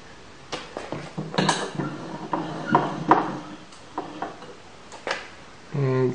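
The infeed table adjustment on a jointer with a parallelogram mechanism is tightened, giving scattered close metallic clinks, knocks and scrapes, with a brief voice at the end.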